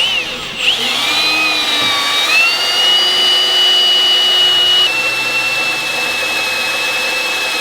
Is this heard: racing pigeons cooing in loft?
no